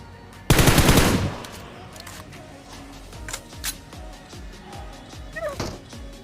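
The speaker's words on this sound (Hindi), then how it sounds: "तो मैं कोशिश करता हूँ कि यहाँ थोड़ा कवर फायर दूँ और यहाँ से निकलूँ" A burst of automatic gunfire rattles out in PUBG on the Erangel map, loud and close for under a second, followed by scattered quieter shots and game clicks; there is no talk.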